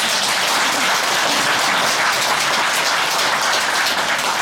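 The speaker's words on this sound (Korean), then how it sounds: "박수 치려면 크게 치십시오." Applause from a congregation at a monthly dharma service in a Buddhist temple, a dense, even wash of many hands clapping for several seconds with no talking.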